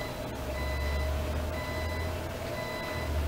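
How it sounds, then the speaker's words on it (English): A home alarm goes off downstairs, repeating steady electronic beeps at a moderate level over a low background hum, with no voices. "Please ignore the ringing in the background. It's my alarm going off."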